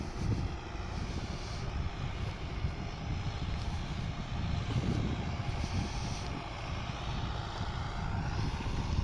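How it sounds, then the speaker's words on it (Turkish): Steady, rumbling engine drone with no clear break, a heavy TD110D tractor running nearby on a field and growing slightly louder over several seconds as it approaches. "Evet traktörümüz geliyor tekrardan"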